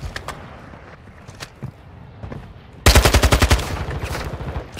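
Gunfire in the DMZ video game: scattered distant single shots, then a loud close burst of rapid automatic fire that settles into continued quicker shots, with no talk.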